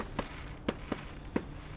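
Fireworks exploding at a New Year's celebration, four distinct booming bursts spaced irregularly over a steady background rumble, moderately distant.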